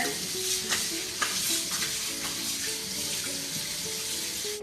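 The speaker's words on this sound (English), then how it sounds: "So you put it in the colander, rinse it with some cold water." Cold water runs from a tap over parboiled spinach in a colander, a continuous bright splashing hiss with scattered light knocks and clinks throughout.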